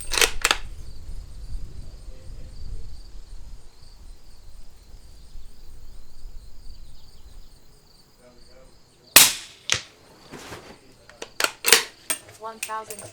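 A Ruger American Ranch Rifle firing suppressed 300 Blackout Hornady subsonic rounds through a Sig 7.62QD suppressor, several sharp muffled shots near the end after a quieter stretch with faint insect-like background and some talk.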